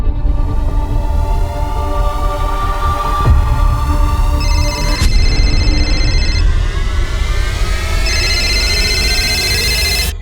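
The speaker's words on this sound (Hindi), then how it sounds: "रिंग तो जा रही है" An outgoing call rings on a phone, a steady electronic ring tone repeating in regular bursts over a constant background hum for about ten seconds, with no speech.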